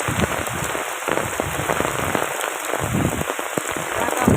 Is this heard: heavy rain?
yes